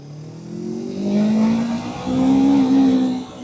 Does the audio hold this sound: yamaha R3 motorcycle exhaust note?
yes